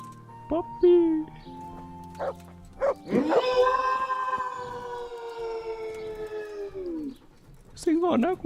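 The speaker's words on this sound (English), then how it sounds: "เสียงหอนน่ากลัวจังอะลูก" A wolf or dog in the medieval game Kingdom Come: Deliverance lets out one long, mournful howl lasting several seconds that slowly falls away, with brief voices speaking just before and after it.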